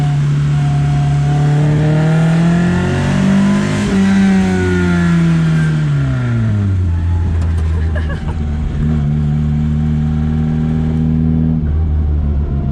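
A 1966 MG Midget "Spriget" engine drives loud and close, pitch climbing through a gear and then dropping as it shifts into second before pulling steadily again, with voices talking over it.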